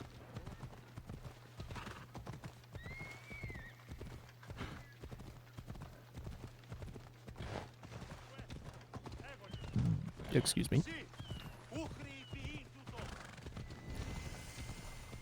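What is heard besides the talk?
horse galloping in the video game Assassin's Creed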